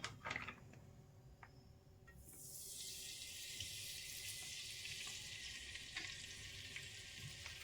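Oil heating in a pan for egg curry: quiet at first with faint clinks, then a steady soft sizzle that switches on and holds evenly to the end, close and without talk.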